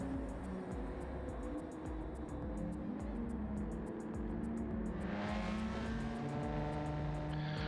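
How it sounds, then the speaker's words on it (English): A classic Volkswagen Beetle drives in the racing game Gran Turismo 7, its engine droning steadily and loudly alongside other race car noise, with a brighter rise in engine pitch toward the end. "He drives the Volkswagen Beetle,"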